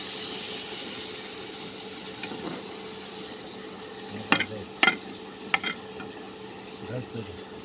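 Taro fries in a pan with a soft, steady sizzle underneath, broken by a few sharp clacks and scrapes from stirring, several bunched in the middle and one near the end.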